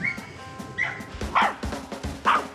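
A dog barks three or four times in an irregular rhythm, fairly close and moderately loud, over a busy background of room noise.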